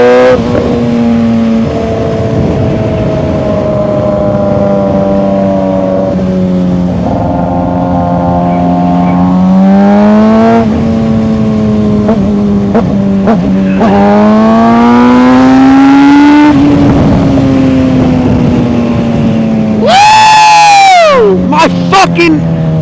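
A motorcycle ridden on the road at about 55 mph: a loud, steady engine drone that climbs and falls in pitch with throttle and gear changes, and a brief sharp rev near the end.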